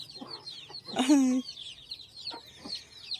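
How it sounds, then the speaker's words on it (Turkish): A baby chick cheeps once clearly amid faint scattered peeps and soft background murmurs; short and close. "Annemin küçük civcivlerini yine göstereyim."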